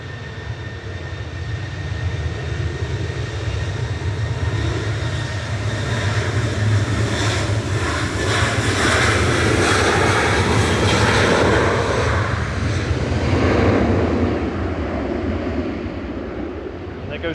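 Fixed-wing airliner passing during plane spotting at Manchester Airport, a steady broad engine roar building and fading over many seconds, with faint talk underneath.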